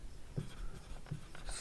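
A pen scratches out a mensuration formula for a rhombus area on paper, with soft, short scraping strokes close by and faint room noise around them.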